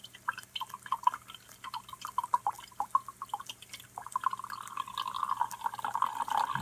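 Water in an Esbit coffee maker being forced up through coffee grounds gives a quick, irregular series of close, small drips and bubbling plinks that thicken into a steadier gurgle toward the end.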